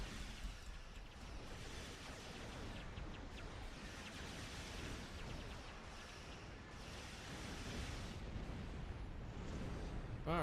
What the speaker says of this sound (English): Some good shots of the bombs going off there.